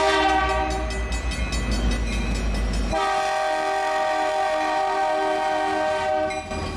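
A train horn blares loudly and steadily in the first of the year's passing rail traffic, holding sustained tones over the low rumble of railcars rolling close by, then fading slightly near the end.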